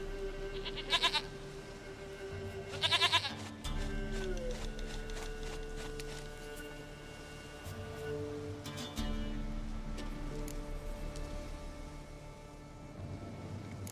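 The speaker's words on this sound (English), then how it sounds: "sweetest goat" A goat bleats twice in The Witcher 3, each a clear, wavering cry, over a steady hum of game background noise. No one talks.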